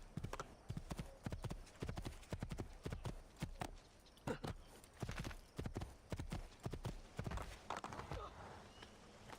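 Horse hooves clip-clopping in the video game Assassin's Creed 2, a quick, rhythmic run of distinct hoofbeats in steady bursts, fairly close and prominent, with occasional faint snorts or a whinny in the background.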